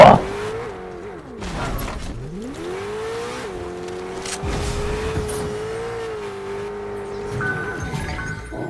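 A car engine in Fortnite revs up and down, rising and falling in pitch as the vehicle accelerates, with a tire squeal and mechanical clatter; loud and close, no talk over it.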